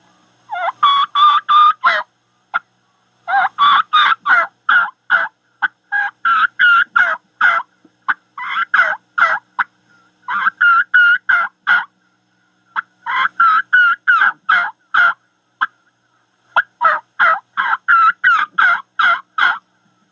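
A hunter's turkey call, diaphragm or friction type, mimics a young jake with bursts of rapid high kee-kees, slow raspy yelps and gobbling runs, loud and close in repeated phrases separated by short pauses, with no talking.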